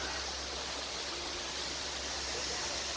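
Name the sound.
small waterfall in Ubud, Bali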